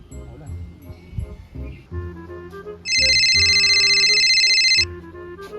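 A telephone ringtone for an incoming call rings loudly and steadily for about two seconds in the middle, with people talking before and after it.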